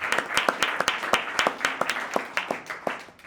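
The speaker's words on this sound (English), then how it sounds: "quick round of applause for Zach." Audience at a small business seminar giving a quick round of applause, a lively burst of clapping with crisp individual claps standing out, sustained for a few seconds.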